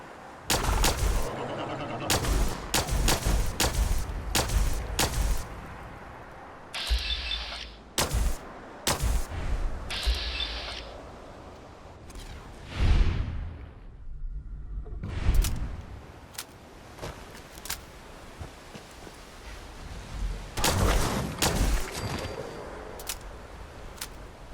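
Pistol shots ring out in Fallout 4, with sharp single reports spaced irregularly and sometimes in quick pairs, some loud and close, others trailing off between quieter gaps.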